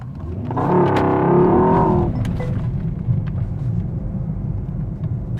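A 2024 Mercedes S63 AMG accelerates hard from a stop, its engine rising in a loud, strained roar for about two seconds before easing into a lower steady rumble of road and engine noise.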